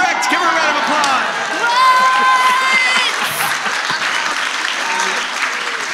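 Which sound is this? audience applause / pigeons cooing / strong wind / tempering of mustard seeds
audience applause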